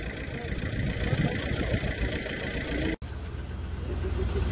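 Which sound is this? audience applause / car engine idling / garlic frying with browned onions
car engine idling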